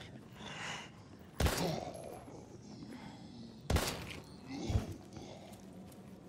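Gunfire in the survival horror video game Daymare: 1998: two loud, sharp shots about two seconds apart, then a softer thump, over a low ambient background.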